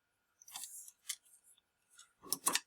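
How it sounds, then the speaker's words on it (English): Scissors snip thin wire cut to length for a Spitfire MkIX flight stick kit: several crisp, close snips spaced unevenly, ending in two quick cuts. "I'm just using scissors to cut these. They're very thin wire."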